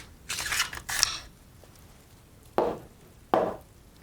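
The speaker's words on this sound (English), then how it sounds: "You will then take out the bolt carrier group," A rifle is being taken apart and its bolt carrier group pulled out, giving a burst of sliding metallic rasps followed by two sharp separate clicks, close and crisp against quiet.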